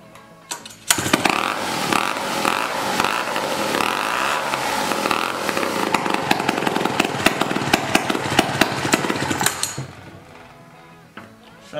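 An antique chainsaw engine starts up and runs loud and close for about nine seconds, its rough, uneven two-stroke roar pulsing with sputters before it cuts out and falls quiet.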